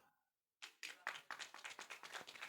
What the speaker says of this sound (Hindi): तुम लोग ताली क्या बजा रहे हो?